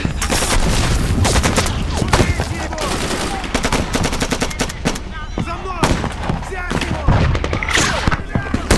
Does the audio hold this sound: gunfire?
yes